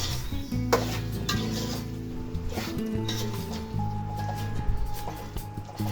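Chicken masala with yogurt stirred and sautéing in a pan for a Malabar chicken biriyani: a spoon scrapes and clinks against the metal in irregular strokes over a low, steady sizzle, close up with no talking.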